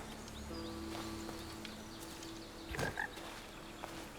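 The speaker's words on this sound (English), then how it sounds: "Okay, I hear the frog." A frog croaks in the video game Blacktail. Two or three short, quiet croaks come in quick succession over a soft ambient forest bed with faint rustling.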